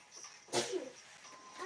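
A child gives a single short, quiet sneeze in a room during a home livestream, a brief burst standing out against faint background sound.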